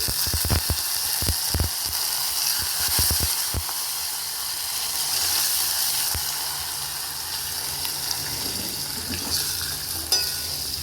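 A tempering of spices with asafoetida and coriander leaves fries steadily in hot oil for dal, a continuous close sizzle with a few sharp pops and crackles early on and no talking.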